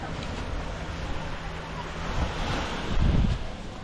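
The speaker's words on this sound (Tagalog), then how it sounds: "Ingat sa alon." Ocean surf rolls onto a beach under strong northeast monsoon wind, a steady roar with wind buffeting the microphone and a heavier wave surging near the end.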